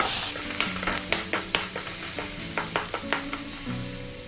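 Asafoetida sautéing in a pan over a low flame, a steady close sizzle with irregular scraping stirs of a spatula and faint tonal hums beneath.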